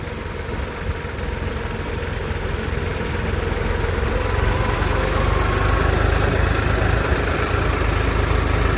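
A New Holland 4x4 tractor fitted with big tyres runs off-road through mud, its engine a steady, close, rumbling drone with a knocking, vibrating edge that builds slightly, with no voices.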